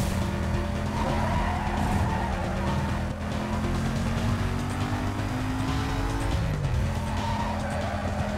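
A Mercedes-Benz SL 500 roars through a police pursuit in Need for Speed: Most Wanted, its engine droning with a shifting pitch while tires squeal and skid throughout.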